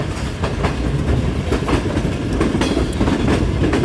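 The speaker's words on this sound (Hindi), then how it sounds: "एक रेल ट्रेन के लिए जो चिलिंग साउंड है वो सबसे ज़्यादा मायने रखता है।" Passenger train rolling along rails in Pakistan during monsoon rain, a steady loud rumble with rhythmic clickety-clack of wheels over joints, continuous and close with no talking.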